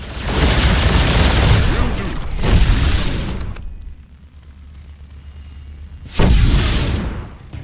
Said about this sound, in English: Looks like we fired on our own battlecruiser and destroyed it